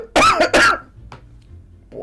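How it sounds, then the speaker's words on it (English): A person gives two harsh, loud coughs in quick succession, close up, followed by quiet with a faint breath. "I really am going to cough my guts up"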